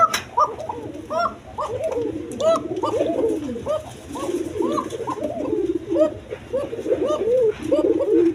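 Basiraj pigeons coo in a dense, continuous chorus of repeated throaty calls, close and fairly loud, layered over each other with a low hum underneath.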